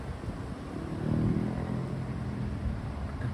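Boy racers' cars revving in a car park at night, a distant engine rising and falling under steady background rumble, swelling briefly in the middle before settling back to a low drone.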